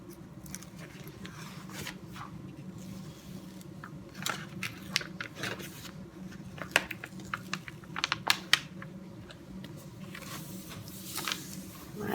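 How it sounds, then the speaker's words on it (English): Cover paper peeled back from a diamond painting canvas of a Tree of Life tapestry, heard as soft crackling and sharp papery ticks scattered over a low steady background hum, close by with no talking. "just gonna peel this edge back."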